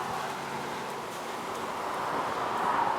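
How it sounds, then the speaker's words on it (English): Hurricane wind at Walt Disney World blows in a continuous rushing roar, buffeting steadily and swelling slightly louder toward the end. "It is a bit windy."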